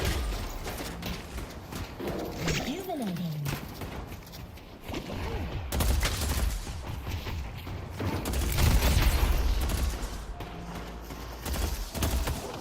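Gunfire in the hero shooter Deadlock: bursts of shots and impacts come thick and fast amid busy combat effects and ability sounds, loud and continuous throughout, with a dense clash in the middle.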